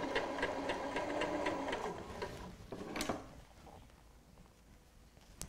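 A sewing machine stitching piping, a quick steady run of needle clatter for about two seconds that slows and stops, followed by a click and faint handling sounds.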